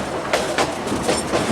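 A Cumbres & Toltec Scenic Railroad narrow-gauge train runs between Chama, New Mexico, and Antonito, loud and close, with rhythmic clickety-clack of wheels over rail joints above a continuous rumble.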